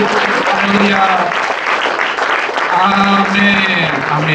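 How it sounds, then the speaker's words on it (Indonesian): Church congregation applauding loudly and continuously at a sermon service in New York, dense clapping throughout with voices calling out over it. "berikan tepuk tangan yang meriah sekali lagi"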